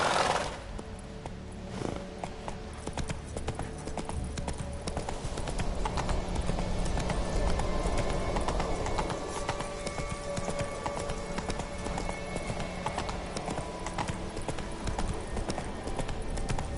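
Roach, a horse in The Witcher 3 video game, trots with steady rhythmic clip-clopping hooves under a continuous loud game soundscape for the whole stretch, with no talk.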